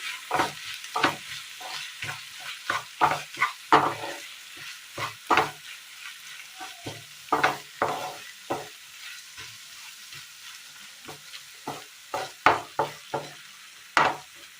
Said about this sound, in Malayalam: ഇതിലേക്ക് കറിവേപ്പില ഇട്ട് കൊടുക്കാം നന്നായി മിക്സ് ചെയ്യാം